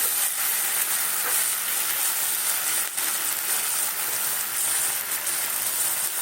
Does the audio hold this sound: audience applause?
no